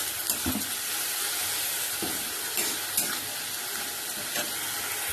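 Spice masala with garlic sizzles steadily in a pan on a home stove, with the frying hiss broken by a few soft scrapes and stirs.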